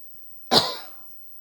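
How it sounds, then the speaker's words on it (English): A single sharp cough from a woman, sudden and close, with a brief throaty tail fading out within half a second, surrounded by near silence at night. "It's the spirit that make me coughing now."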